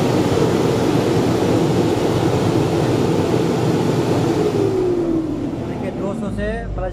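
A Mahindra Blazo BS4 truck diesel engine with a turbo fault revs at full throttle, a loud, steady, dense roar held throughout while someone talks over it.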